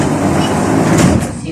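A KTM-5A (71-605A) tram rides route 1 in Lipetsk, giving a steady, loud interior rumble of wheels and motor with a brief brighter rattle near the end.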